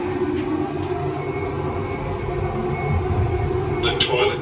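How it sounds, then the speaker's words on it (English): Steady low rumble and hum of a moving passenger train travelling from the Blue Mountains to Sydney, Australia, with rhythmic rattling, heard from inside the carriage, with faint voices underneath. "we're on the Marion new trains from the Blue Mountains down to the city"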